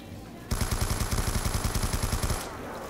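Rapid automatic gunfire from a weak starter gun in a zombie survival video game on the Town map, one steady two-second burst of evenly spaced shots, loud and close, with no talking.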